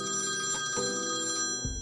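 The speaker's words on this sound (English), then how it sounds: "Just as he dashes off, your phone rings." A phone ringing with a steady, bright electronic ringtone, loud and close, with no talking.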